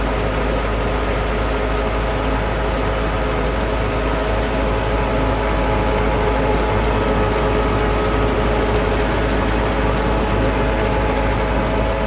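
A Massey Ferguson MF 375 tractor engine runs steadily with a rotavator attached during wheat and potato sowing, producing a loud, continuous low rumble with constant mechanical noise throughout.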